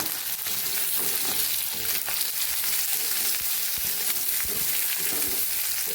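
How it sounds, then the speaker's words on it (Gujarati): Okra sautéing in hot oil makes a dense, continuous sizzling hiss, steady and close throughout with faint scraping of stirring underneath. "હવે ભીંડાને આપણે આમ જ સાતળવાના છે"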